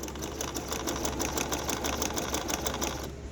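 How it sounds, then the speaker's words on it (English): A Bernina 1630 Inspiration Plus sewing machine stitches a zigzag at a fast, steady, mechanical rhythm, heard up close for about three seconds with no talking. "this is a demo for Bernina 1630 Inspiration Plus"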